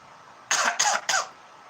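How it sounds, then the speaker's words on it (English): Three quick, harsh coughs from a man after smoking hemp, close to the microphone and in rapid succession, with no talking. "There goes a hemp cough."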